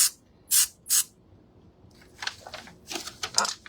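Short hissing bursts of a spray can, three quick sprays followed by a longer run of uneven, sputtering spraying and light rustling.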